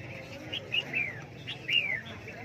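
White-eye birds chirp at a crowded Lang Son caged-bird market among other songbirds, with several short, high chirps scattered over steady low background hubbub.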